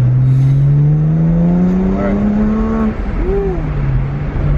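BMW 1M car heard from inside while driving, its engine droning loudly and climbing steadily in pitch under acceleration, then dropping briefly at a shift before building again.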